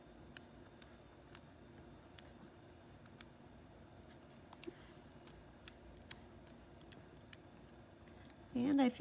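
Numbers typed on a computer keyboard, sparse sharp key clicks at an uneven pace in a quiet room, faint and close, ending with a brief burst of louder sound.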